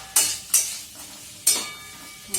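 Potatoes frying in a pan, quiet background sizzle broken by four sharp, bright scraping strokes of a spatula stirring them at an uneven rhythm.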